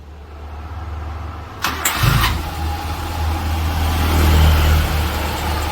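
A used car at a second-hand dealer cranks and fires up, the starter whirring briefly before the engine catches and settles into a smooth, steady idle close by, with no talk.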